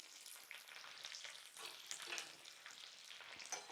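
Curry leaves frying in sesame oil with small onions for a village-style tempering, a steady close crackling sizzle with a few brighter pops, no talking.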